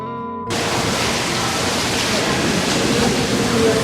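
A pipe jet of water flushes pig intestines clean at a butcher's preparation area. It starts abruptly after a brief quiet moment and then rushes on as a loud, continuous, close splashing roar.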